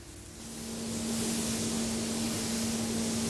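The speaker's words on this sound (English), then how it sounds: "3M dry sanding speeds up the process" A 3M machine sander dry sanding car primer, a steady close broadband whir with a constant hum that ramps up in the first second and then holds even.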